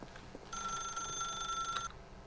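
A telephone rings in The Stanley Parable, one sustained bright electronic ring lasting over a second, then cutting off sharply into quiet room ambience.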